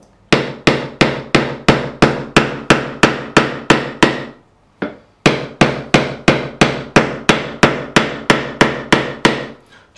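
Steady hammer taps seating frets into the fingerboard of an Ibanez RG200 guitar during a refret, a brisk even run of sharp knocks, a brief pause, then another run, close and loud with no talk.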